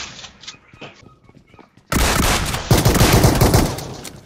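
Shotgun blasts in a tactical video game, arriving suddenly as a loud, dense burst of gunfire after a quieter stretch of footsteps and movement, with a second blast hitting even harder partway through.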